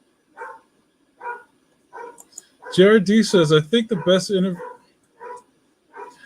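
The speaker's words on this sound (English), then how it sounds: "Sorry for the dogs bugging out." Dogs bark in short, evenly spaced yelps throughout, with a person talking loudly over them in the middle.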